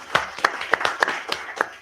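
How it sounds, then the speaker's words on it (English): A small group claps for pediatric cardiac surgeons at a medical conference, with a few sharp, separate hand claps spaced about a quarter second apart, close and fairly loud. "So clap for them."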